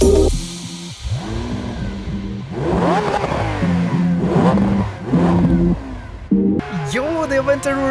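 A Lamborghini Aventador engine revs repeatedly in the mobile racing game Racing Master, with rising and falling pitch sweeps and loud bursts of acceleration that stay prominent throughout, while someone talks excitedly over it.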